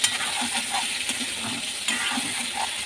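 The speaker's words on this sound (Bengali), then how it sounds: "আলুগুলো বেশ লালচে করে ভেজে নেব" Potatoes fry in mustard oil with salt and turmeric, a steady close sizzle and hiss broken by a few soft spatula stirs and clinks.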